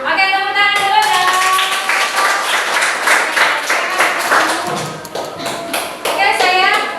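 Children in a classroom clap together in a brisk, close burst of applause, with rhythmic patterned claps and children's voices chiming in over it.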